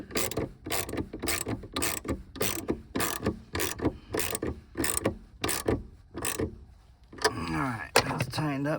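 Ratchet wrench tightening a battery terminal on a 2009-2017 Chevy Traverse: a steady run of about a dozen evenly spaced metallic clicks, close and crisp, then a brief scraping rattle at the end.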